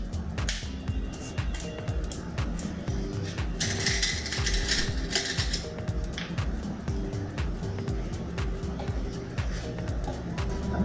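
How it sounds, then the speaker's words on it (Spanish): A screwdriver drives screws into a recycled wood cabinet, giving a steady run of rapid ratcheting clicks at close range with a brief whining burst partway through. "Y ahora ingresamos nuestros tornillos."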